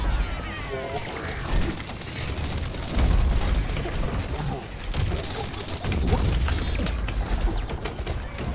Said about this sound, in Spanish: Voy a usar la explosión a su lado.